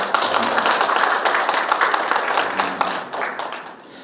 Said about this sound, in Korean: 멀리 오신 우리 손님들께 큰 박수를 좀 부탁드립니다